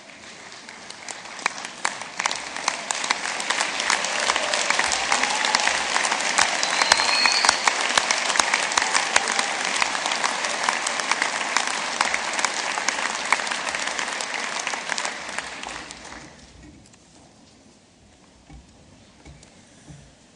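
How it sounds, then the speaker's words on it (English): A large graduation ceremony audience at Ulster University in Belfast applauds loudly and steadily for about fifteen seconds, a dense wash of clapping that then fades out abruptly into quiet room noise. "give them a round of applause to say thank you for all their support"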